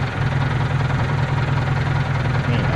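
A tractor engine plowing a field idles steadily and loudly with a deep, throbbing low rumble and constant mechanical vibration, no voices over it.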